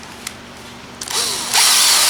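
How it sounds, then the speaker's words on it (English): A drill spins a golf-specific sanding bit inside a golf club hosel while building a driver, a short tap and brief whir giving way to a loud, steady high-pitched grinding whine that holds close and continuous. "this is one of our sanding bits we use. It's golf specific. It fits most hosels."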